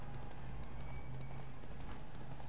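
Roach the horse gallops in The Witcher 3, a continuous rapid clip-clop of hooves running steadily and fairly loud throughout, with no voices heard.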